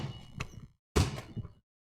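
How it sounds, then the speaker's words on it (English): A basketball thumping on the floor behind a desk, two dull close bounces about half a second apart, the second louder, followed by silence. "here's the sound of that basketball behind my desk"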